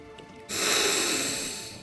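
A narrator's voice imitates a dragon sniffing: after a brief quiet, a single long, loud nasal inhale swells and slowly fades, breathy and close.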